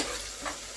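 Onions frying with turmeric in a pan for chicken biryani, heard as a brief, close, steady sizzle with a soft stirring scrape.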